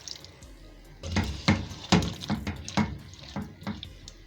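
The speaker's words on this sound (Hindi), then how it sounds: "अब इसमें हम 1/4 कप पानी शामिल करेंगे।" Water splashes and gurgles in several uneven bursts as a quarter cup is poured into a pan of frying eggplant and potatoes, close and fairly quiet.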